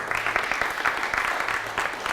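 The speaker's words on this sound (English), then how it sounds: "I would hope you give each other a round of applause right now" An audience at an evening networking event claps with steady, moderately close applause that comes in gentle surges over a couple of seconds.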